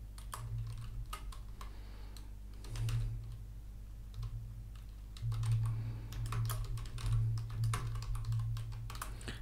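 Computer keyboard keys clatter in short bursts of quick typing, close and clear in a quiet room, with brief pauses between runs of keystrokes.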